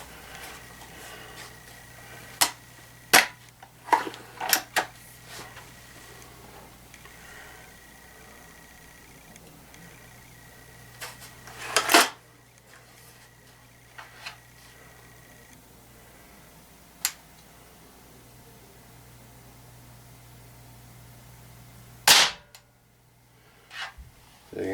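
Ruger Air Magnum .177 air rifle shots from before super tuning: a handful of sharp, isolated cracks spaced several seconds apart, with two standing out as louder, over a faint low hum.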